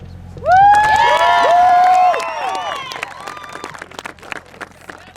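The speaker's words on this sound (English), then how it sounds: "Let's give a big round of applause to the members of our armed forces" A crowd cheers loudly at a high school football jersey presentation for the Army Bowl, honoring U.S. Army members. Piercing whoops and whistles open the clip, then fade into sustained clapping.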